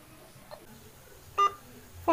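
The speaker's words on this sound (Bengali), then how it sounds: "ফোনটা যাচ্ছে" Short electronic phone beeps sound during a prank call, with two distinct tones close to the microphone against a quiet background.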